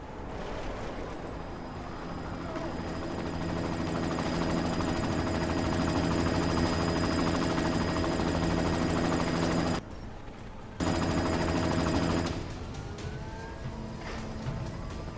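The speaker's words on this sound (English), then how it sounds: "You've got to stop that chopper." Helicopter in the Deus Ex video game, a loud, steady rotor drone with a thumping pulse that swells, cuts out briefly and then returns before easing off near the end.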